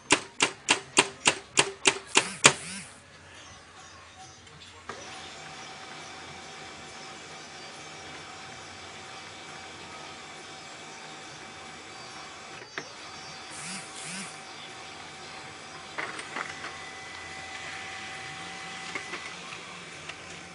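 HP LaserJet P1102 laser printer running a manual self-test: a quick series of sharp mechanical clicks, then a steady close whirring hum as a page feeds through, with occasional clunks and rattles, no talking.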